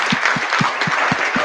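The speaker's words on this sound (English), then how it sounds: "So a round of applause to them." An audience at a Brighton games-industry meetup gives steady, dense applause, many hands clapping together at close range with no voices rising above it.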